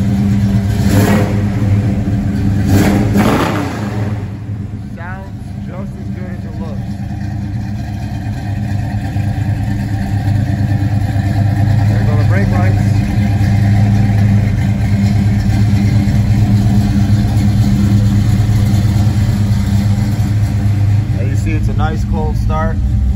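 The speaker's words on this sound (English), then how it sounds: "Give it a couple revs." A 1972 AMC Javelin SST Pierre Cardin edition revs its engine a couple of times after a cold start, then settles into a steady, loud idle; voices talk over the engine at points.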